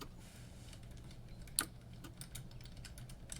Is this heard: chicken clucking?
no